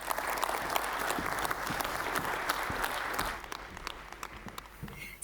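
Warm audience applause greeting a speaker at a finance conference, dense clapping from a crowd that holds steady, then thins out into scattered claps toward the end.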